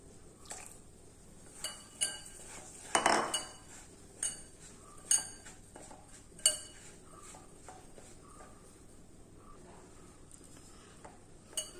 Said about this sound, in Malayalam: ഉപ്പും പാലും ചേർത്ത് പുട്ടുപൊടി ഒന്ന് കുഴച്ചെടുക്കാം